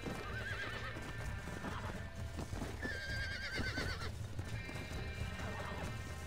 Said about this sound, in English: Let's stop the horse.